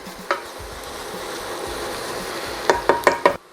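Onions and melted sugar caramelizing in a pan, a spoon stirring them with a low steady sizzle, then a quick run of four distinct scraping knocks against the pan near the end.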